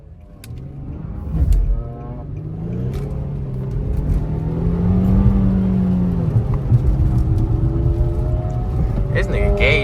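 A tuned Infiniti G37 sedan revs and drifts nearby, its engine rising and holding a loud, steady roar with tire noise for the whole stretch, while people talk excitedly over it.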